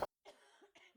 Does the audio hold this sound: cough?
yes